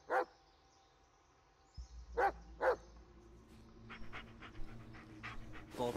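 In the Blair Witch video game, a dog gives a few sharp, close barks, one early and a pair near the middle, with soft panting and a low ambient rumble between them.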